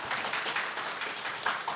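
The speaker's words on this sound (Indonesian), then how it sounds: "Tepuk tangan dulu untuk tim penerjemah Lagaligo." Applause from a book launch audience honoring a translation team, a steady wash of many hands clapping at moderate volume, continuous and without pauses.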